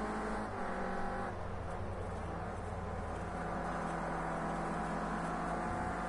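Renault Clio Cup race cars run on a circuit in a steady, loud engine drone that holds throughout without a break. Faint whining overtones ride on top of the drone.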